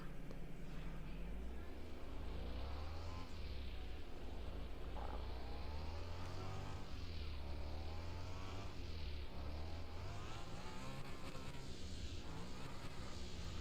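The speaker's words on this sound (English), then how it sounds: "This thing started up. Let it warm up a little bit. Let it warm up. And slowly rev it up." An Aston Martin engine revving in the Car Mechanic Simulator 2021 video game, with a steady low idle rising and falling through repeated moderate revs, fairly faint, with someone talking over it.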